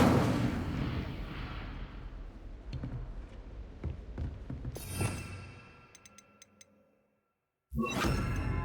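A spell burst in Hogwarts Legacy: rumbling, crackling fire and whooshing impacts, several sharp thuds, fading to near silence before a loud fiery whoosh returns at the end.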